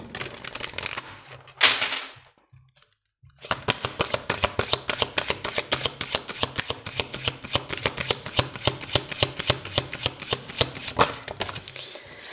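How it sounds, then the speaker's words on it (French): Oracle cards are shuffled close up, a crisp riffling burst, a brief pause, then a long run of quick, rhythmic flicking and slapping of cards. "On va prendre quelques cartes avec l'oracle des anges de l'amour."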